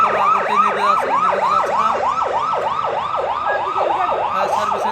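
A fire engine rushes toward a cargo office fire beside an airport, its siren wailing in rapid, regular rising sweeps, loud and continuous with no voices over it.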